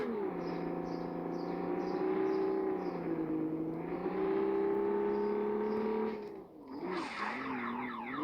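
A car engine holds a steady, droning high rev during a drift in the racing game Drive Zone Online, with a brief dip and tire-squeal flutter near the end, loud and close with no talking.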